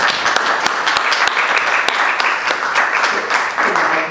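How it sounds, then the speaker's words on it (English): A room full of people claps steadily after a film screening, dense and fairly loud applause holding throughout with a few sharper claps standing out, no talking. "Round of applause."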